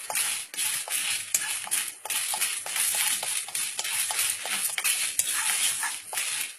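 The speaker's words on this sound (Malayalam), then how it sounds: "ഇത് പാൻ ചൂടായി മല്ലിയും ചെറിയ ജീരകവും വറ്റമുളകും കൂടിയിട്ടൊന്ന് ചുളക്കിടുക" Coriander seeds, cumin and dried red chillies rattle and skitter in a hot pan as they are dry-roasted, stirred and tossed, with scraping and light clinking of a utensil, steady and close.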